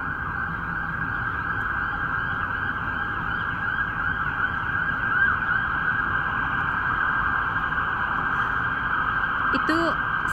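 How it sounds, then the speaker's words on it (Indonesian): An emergency vehicle siren on a Toronto street holds a loud, steady tone for about ten seconds, passing nearby over traffic noise, with a brief sweeping whoop near the end. "Itu sirene sering banget kedengaran di sini."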